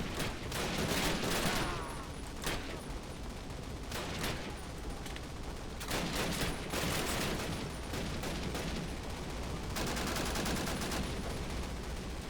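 BAR rifle fire in Call of Duty, set in a D-Day 1944 battle, with bursts of rapid automatic shots amid dense continuous battlefield gunfire and explosions, loud and unbroken throughout.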